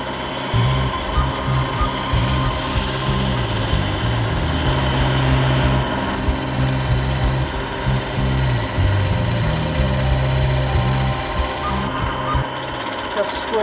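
An oak vase turns on a wood lathe as a tool cuts a taper, producing a steady whirring hum with rough scraping texture that runs nearly unbroken and close up.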